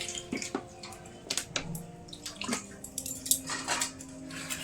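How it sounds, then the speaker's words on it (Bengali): Hands washed under a running kitchen tap, with faint trickling water and soft splashes plus light clinks of dishes, quiet and close. "হাতটা ধুয়ে নিই।"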